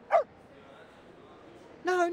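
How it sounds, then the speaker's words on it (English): A border collie in the video game Reverse: 1999 gives two short, bright barks, one at the very start and one at the end, separated by a quiet stretch with a faint low hum. "Look at the border collie."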